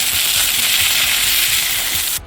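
Fish frying in oil on a hot tawa gives a loud, continuous close-up sizzle with crackling spatter that cuts off sharply at the end.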